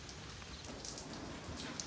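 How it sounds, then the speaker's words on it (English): Rain falls softly outdoors as it begins to ease off, a faint, steady patter of drops on surfaces with a few slightly sharper taps. "It's starting to slow down with the rain."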